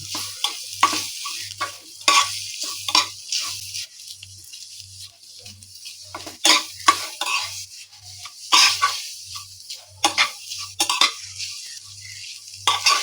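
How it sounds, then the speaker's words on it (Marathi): Okra is stir-fried in a pan with garlic and masala, giving repeated scraping and clinking strokes of a spatula over a soft sizzle. The strokes come in irregular bursts close by, with no talking. "थोडंसं हलकं परतून घ्यायचं आणि लगेच आपल्या त्याच्यामध्ये भेंडी घालायची छान परतून घ्यायचं"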